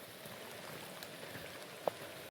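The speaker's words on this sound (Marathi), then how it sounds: "तरी बघू शकता इथं भरपूर पाऊस आहे." Steady rain falls at Rajgad fort as a soft, even hiss with one faint drip standing out near the end.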